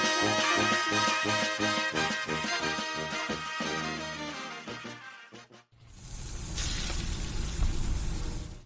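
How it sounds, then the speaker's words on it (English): Rhythmic music plays for several seconds, then stops and gives way to a loud, steady sizzle of dry-aged USDA Prime Wagyu and Angus steaks frying on a hot surface. "That's the sound of sizzling, dry-aged USDA Prime Wagyu and Angus steaks"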